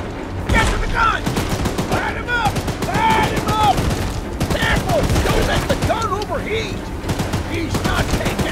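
Gunfire aimed at the monster train Charles in the Choo-Choo Charles video game, rapid repeating bursts of loud close shots mixed with shrill creature screeches and clanking, while players shout over the barrage.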